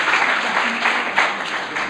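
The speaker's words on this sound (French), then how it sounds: "J'aimerais qu'on applaudisse encore vivement le doyen Baba pour cette bien exposée" An audience at a contemporary art biennale applauds dean Baba after his talk, loud sustained clapping from many hands with no voices over it.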